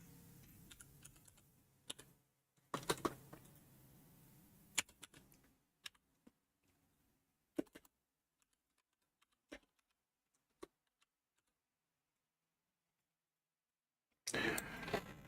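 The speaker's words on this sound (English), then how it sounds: "I'm just typing right now." Bursts of typing on a computer keyboard, quick clustered key clicks with long silent gaps between them, close and fairly quiet, ending in a louder noisy burst.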